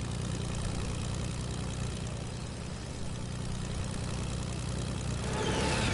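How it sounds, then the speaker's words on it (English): A propeller plane engine in the video game Fortnite drones steadily and loudly throughout, a dense continuous hum with no voices over it. "I have a plane."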